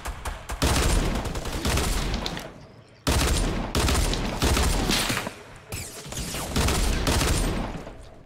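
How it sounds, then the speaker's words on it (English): Dual pistols fire in a video game, producing long dense bursts of rapid shots with short breaks between, loud and close, with faint talk under the noise. "I have dual pistols, Maddie. I'm coming"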